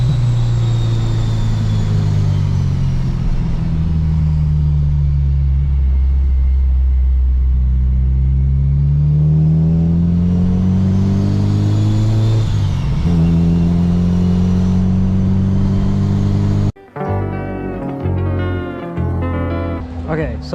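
A Honda RSX with a Kraftwerks-supercharged K20 engine revs up close, its loud rumble climbing and falling over a long stretch before cutting off, followed by brief talking.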